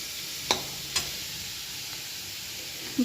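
Bottle gourd peel frying in a pan with garlic and no onion, a faint steady sizzle with a few sharp utensil clicks as it is stirred little by little.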